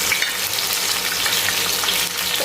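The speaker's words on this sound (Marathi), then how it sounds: "आता आपल्याला सर्व बाजूने अशा गोल गोल फिरून या व्यवस्थित फ्राय करून घ्यायच्या आहेत" Stuffed green chillies fry steadily in a pan, a dense, continuous sizzle that holds loud and close without pause throughout.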